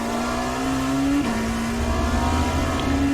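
Dallara P217 LMP2 race car engine in iRacing at Fuji without the chicane, a loud steady high-pitched whine climbing in pitch, with a quick gearshift dip partway through before rising again.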